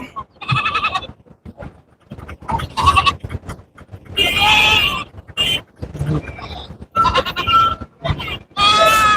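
Sheep and goats at a Saturday livestock market in Ettayapuram bleat loudly and close by, in repeated overlapping calls separated by short gaps.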